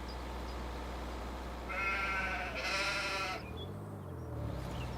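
Sheep bleat on a pasture in the video game Farming Simulator 25, with two or three drawn-out, wavering bleats in the middle over a constant low ambient hum.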